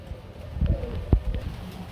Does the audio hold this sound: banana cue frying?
no